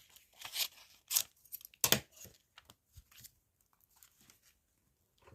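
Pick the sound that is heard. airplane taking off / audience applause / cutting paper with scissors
cutting paper with scissors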